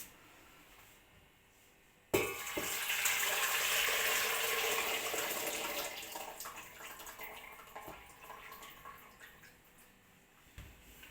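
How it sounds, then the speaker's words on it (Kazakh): Liquid from jarred tomatoes pours into a saucepan in a home kitchen, a sudden splashing stream that begins abruptly after a quiet moment, runs loudly for several seconds, then tapers off with a few trailing drips and knocks. "бұл суын кейін қарата қайнататын кастрөлімізге төгеміз"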